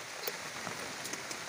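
Steady rain patters softly on a fishing boat at sea, a faint continuous hiss with scattered drops, no voices.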